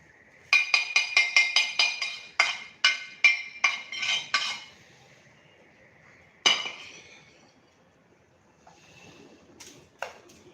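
Roasted neem leaves, kalonji seeds, tea leaves and almonds tipped onto a plate give a quick run of about a dozen close, bright clinks and rattles, then a single louder clatter and a few faint taps, with no talking.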